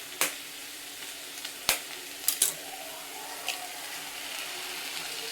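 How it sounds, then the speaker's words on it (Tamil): A cracked egg poured into spinach cooking in a pan, a low steady sizzle marked by a few sharp clacks and taps of the shell and utensil at the start. "ஒரு முட்டை உடச்சி ஊற்றிக்கிடலாம்"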